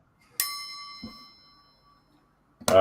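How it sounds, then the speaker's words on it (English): A spring-released mechanical cog device gives a single bright chime that rings and slowly decays for about a second and a half, followed by a soft clunk and then a sharp rattle at the end. "the spring releases, and then it makes like a chime"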